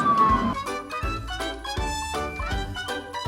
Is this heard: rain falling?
no